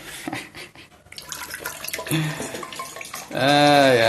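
Water pours from a fridge dispenser into a glass, beginning with scattered drips and trickles and ending in a louder steady gush as the glass fills, with a voice speaking in between.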